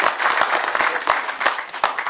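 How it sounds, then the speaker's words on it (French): Audience applause after a talk at a Catholic colloquium, a steady dense clapping from a sizeable crowd, close and loud throughout without speech. "Je pense que je peux demander encore qu'on applaudisse."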